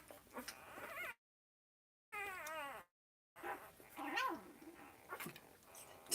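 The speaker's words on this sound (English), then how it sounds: "Did you hear that one bark?" A young puppy at feeding time gives short, high yips and whimpers between gaps of silence, close by and fairly quiet.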